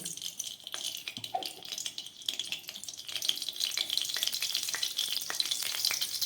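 Oil heating in a kadai for arhar dal, a fairly quiet crackling sizzle with a light rattle, rising gradually and becoming denser toward the end.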